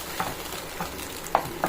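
Okra pachadi with tamarind simmers and sizzles softly in a pan, with a few scattered light scrapes of stirring and no voices.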